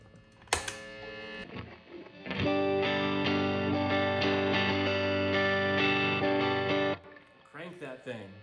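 Electric guitar played through a Dane boost pedal set at half boost, a strummed chord ringing out sustained and thick for several seconds, with a few lighter notes before and after and a voice talking briefly at the start.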